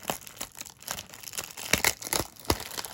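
A Topps 2021 Gypsy Queen baseball card box being cut open, with a run of short, close crinkling and tearing crackles in an uneven rhythm.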